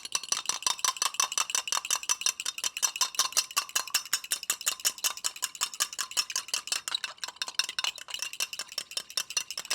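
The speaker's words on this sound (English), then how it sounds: "just grab a fork and give that a quick whisk" A fork briskly whisks egg with salt in a bowl, producing fast, steady metallic clicking and scraping strokes, close and continuous with no talk.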